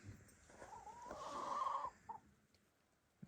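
Hens on a small rural homestead cluck and cackle, rising into one louder drawn-out squawk and then a short cluck, with a soft farmyard background behind them.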